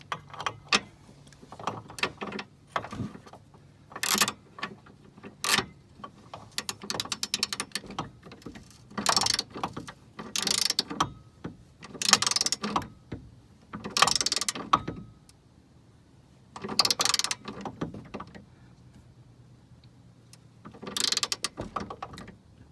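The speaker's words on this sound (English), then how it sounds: "you need a torque wrench" Torque wrench ratcheting on a bolt on a Mini Cooper S R56 rear swaybar, with repeated close bursts of clicking in uneven strokes separated by short pauses.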